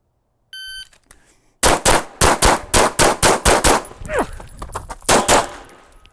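Rapid string of about ten sharp gunshots fired in quick succession at close range, each crack distinct and loud, preceded by a brief electronic beep.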